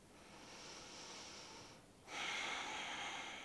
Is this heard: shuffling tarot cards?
no